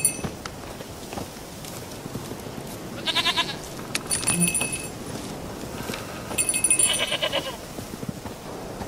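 A goat bleats in The Witcher 3 amid ambient game sounds, with short bleats near the start and middle, light footsteps and faint jingling, fairly close, with no clear speech.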